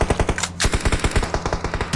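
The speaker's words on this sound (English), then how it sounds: "Shots from behind." Rapid automatic gunfire rattles in a fast, loud, close burst during a PUBG Mobile esports match, the shots continuing in an even stream with a brief louder blast near the middle.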